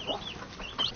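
Chickens taken from a coop cluck and squawk in short, faint calls close by, several brief notes over a soft noisy background.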